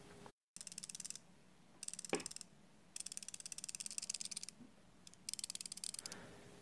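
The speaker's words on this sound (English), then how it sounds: "It doesn't hold the bit securely anymore and now it rattles." Loose bit holder on a ten-year-old Leatherman Skeletool CX multi-tool rattling when shaken, heard as quick bursts of small, fast metallic clicks separated by short pauses, close and quiet, with no voices.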